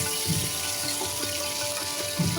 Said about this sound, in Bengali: সেই তেলের মধ্যে পেঁয়াজগুলো দিয়ে দিবেন পরিমাণ মতো